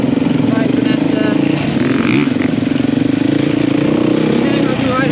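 A rally motorcycle rides off-road into the wilderness in Qatar. Its engine drones loud and steady throughout, holding an even pitch, and voices may be faintly mixed in.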